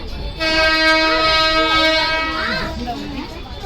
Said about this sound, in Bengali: আমরা সবাই বসে পড়েছি ট্রেনে, লোকাল ট্রেন।